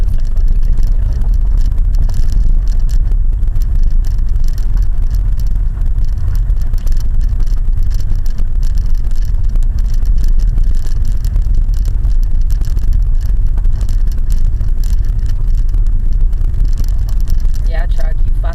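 A car climbs the gravel stretch of the Mount Washington Auto Road, a loud, steady low rumble of engine and tyres on loose surface filling the whole span, with occupants talking over it.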